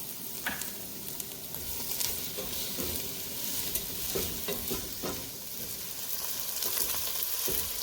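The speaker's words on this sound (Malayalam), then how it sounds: "ഇനി ഇത് അല്പം ഉപ്പ് ചേർത്ത് നമുക്ക് നന്നായി ഒന്ന് വഴറ്റിയെടുക്കാം" Onions, green chillies and curry leaves sauté with salt in a pan, a soft steady sizzle broken by repeated spatula scrapes and light taps, no voices.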